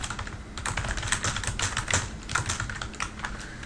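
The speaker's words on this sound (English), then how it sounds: "When I start typing stuff in" Quick, irregular clatter of keys being typed on a computer keyboard, close and continuous with no talking.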